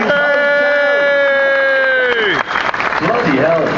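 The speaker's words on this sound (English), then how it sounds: "Give him a round of applause." Crowd applause at a Top Gear Live arena show breaks in after a long, sustained tonal blare. Clapping and cheering swell in the last second and a half, with voices calling out over it.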